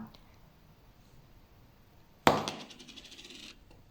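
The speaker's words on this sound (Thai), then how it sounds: "ขอโทษทีเหรียญหล่น" A single Swiss franc coin drops onto a hard surface with a sharp metallic clink, followed by a brief ringing rattle as it settles.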